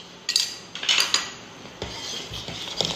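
Metal tablespoon scooping and tapping against a pot while coconut is added for phirni, several distinct clinks and scrapes spaced over a few seconds, close and fairly loud, no voices.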